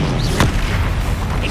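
A Confringo blasting spell detonates in the Hogwarts Legacy video game: one sharp, close burst followed by a booming low rumble, set against constant game sound.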